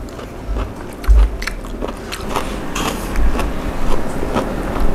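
Someone bites into and chews giant cockles up close, making wet squelches and soft crunches in uneven bursts with thumps in between.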